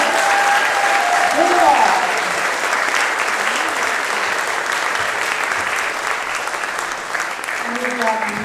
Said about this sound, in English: Let's keep on clapping.